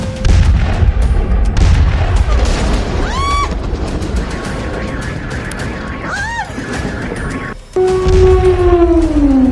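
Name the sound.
bombing and artillery explosions in Venezuela air strike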